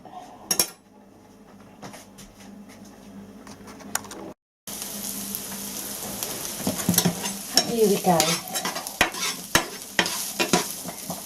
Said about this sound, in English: that will start sizzling away in a moment.